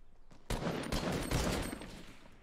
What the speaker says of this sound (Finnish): Ei, joku ampu tänne.